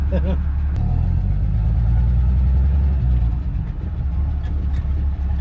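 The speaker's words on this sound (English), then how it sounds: "The engine's getting quieter and quieter the more we drive it." A 1960 Chevy Bel Air six-cylinder engine, just revived after decades in storage, hums steadily and loudly while the car drives, a continuous low drone filling the whole stretch.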